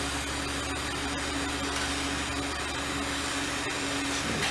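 A propane torch heats a metal part on a 1959 BSA C15T motorcycle, a loud, steady roaring hiss that continues without a break, with no talking.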